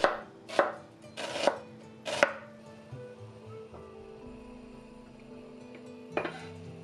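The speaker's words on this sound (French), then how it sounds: "Émincez finement l'oignon" An onion sliced finely with a knife on a board for pho soup, a few crisp cuts in quick succession followed by a pause and one more chop, close and clear over faint background hum.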